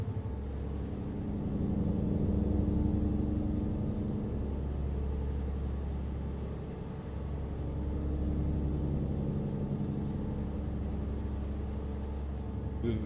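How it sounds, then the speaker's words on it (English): A heavy truck engine in American Truck Simulator, driving through British Columbia, drones steadily and fairly loud throughout, its low rumble swelling and easing with faint rising and falling whine above, ending in a brief hiss. "Love this engine sound."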